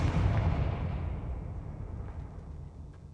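In the Hogwarts Legacy video game, a Confringo spell bursts with a loud blast, then its low rumble slowly fades over a few seconds.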